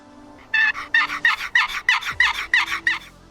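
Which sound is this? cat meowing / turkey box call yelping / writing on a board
turkey box call yelping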